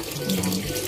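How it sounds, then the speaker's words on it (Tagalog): Tap water fed from a mountain river runs nonstop from a faucet that cannot be shut off, a steady close gush filling the whole moment with no voices. "Yung gamit pala nating gripo dito is running water."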